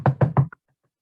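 A voice imitates three firm knocks on a door in a spooky Halloween story, evenly spaced and close, with a faint trailing tap after them.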